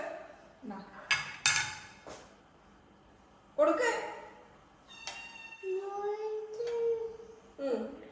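A kitten meows repeatedly in a kitchen, including several drawn-out, rising cries in the latter half, with occasional clinks of dishes and cutlery and voices talking between the calls.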